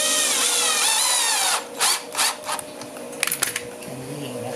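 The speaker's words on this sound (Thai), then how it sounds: "คราวนี้เราก็ยิงตะปูเกลียวใส่ตรงนี้ครับ" A power drill whirs steadily as it drives a screw into a steel folding table, then stops and gives a few short bursts, fairly close.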